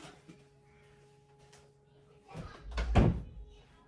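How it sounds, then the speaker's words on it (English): A door in a home is pushed shut with a dull thud and brief rumble, close by, following a quiet stretch with faint background sound. "I'm going to have to close my door."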